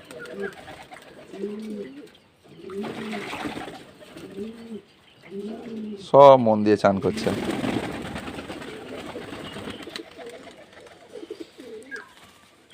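Pigeons coo in soft repeated phrases, followed by a burst of fluttering and splashing as they bathe in water, with a person speaking briefly.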